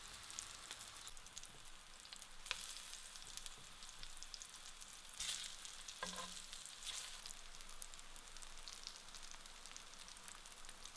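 Plantain pan-fries in a hot Lodge pan, a faint, steady crackling sizzle with a few sharper pops and one brief clatter, heard close with no other sound.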